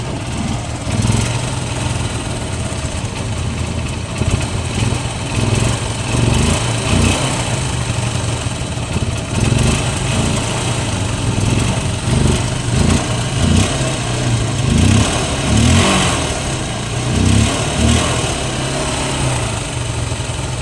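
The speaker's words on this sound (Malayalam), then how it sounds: "ഈ വണ്ടി ഞാൻ സ്റ്റാർട്ടാക്കിയായിരുന്നു എഞ്ചിൻ്റെ സൗണ്ടൊക്കെ കേട്ടോളൂ" A small motorcycle engine idles steadily up close, its buzzy drone swelling in periodic revs before dropping back to a rough idle.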